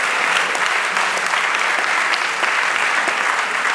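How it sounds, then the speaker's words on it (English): Dense, loud applause from a debate audience, continuous and steady throughout with no talk over it. "yes, a round of applause."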